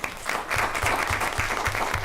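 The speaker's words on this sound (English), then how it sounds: "So let's give Asia a round of applause" Audience at a school board meeting gives a round of applause for a student essay finalist, steady clapping from a modest room crowd, fairly quiet and even throughout.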